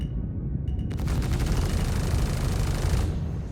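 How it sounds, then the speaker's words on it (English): Weapons fire in the space game Star Citizen, near a medical ship: a loud, dense burst of rapid shots erupts after a short quiet hum and roars steadily for about two seconds before cutting off. "I love the recoil from, like, weapons firing now"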